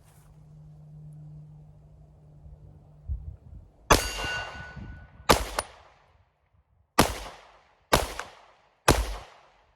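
Six loud, sharp shots from a Sig Sauer P365 X Macro Comp 9mm pistol crack out at a steady, unhurried pace after a low hum, each with a brief echoing tail.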